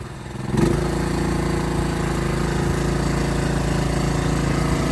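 A lawn tractor engine pulling an Agri-Fab pull-behind spreader starts up at once and then drones loud and steady, close by, with no talk.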